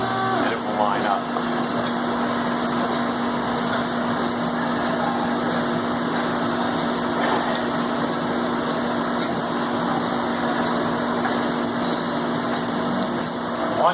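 An ODM XXL sticker bookbinding machine runs with a loud, steady mechanical drone and hum that holds constant throughout, with no clear breaks.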